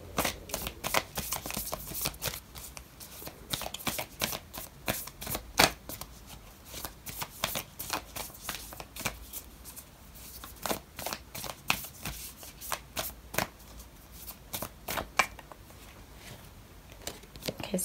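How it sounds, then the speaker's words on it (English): A deck of oracle cards is shuffled for a reading, close up. Riffling and crisp card slaps repeat in quick, uneven bursts throughout, over quiet room tone. "I'm going to pull out an oracle card for you"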